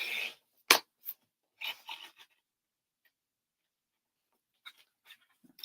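A paper trimmer blade slides through card in a couple of short, crisp strokes near the start, followed by scattered light clicks and taps in an otherwise quiet room.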